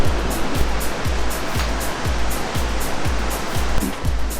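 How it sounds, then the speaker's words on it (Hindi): The Bhagirathi river flows in Garhwal, a steady, loud broadband rush of water that fills the whole stretch without pause, with faint regular low thuds beneath it. "ये है आपकी भागीरथी, जो कि मुनि भागीरथ के ऊपर का नाम पड़ा है"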